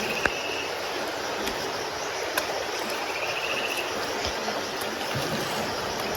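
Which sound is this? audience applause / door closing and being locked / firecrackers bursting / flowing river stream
flowing river stream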